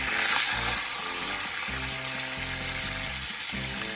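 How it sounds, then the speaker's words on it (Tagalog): Tilapia frying in very hot oil in a pan, a steady close sizzle running throughout, with a low rhythmic hum of background music beneath it. "Ipiprito natin to hanggang sa maging golden brown ang ating tilapia."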